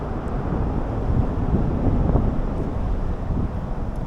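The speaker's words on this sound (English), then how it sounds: "it's raining and windy right now" Steady wind buffets the microphone with a low, continuous rumble under a bridge in Japan on a rainy, windy day, loud and unbroken, with no voices.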